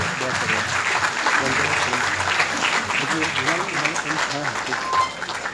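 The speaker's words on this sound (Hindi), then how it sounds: "एक बार तालियां हो जाए।" Audience applause during an honouring ceremony at a student guidance programme, steady crowd clapping throughout under talking voices.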